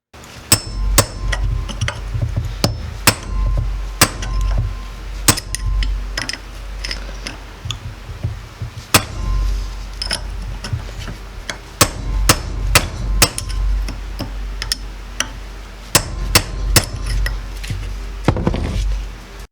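A 3-pound hammer strikes a flat chisel set in the groove of a wheel bearing, sharp metallic blows landing in irregular bursts and single hits, close and loud over nearly twenty seconds.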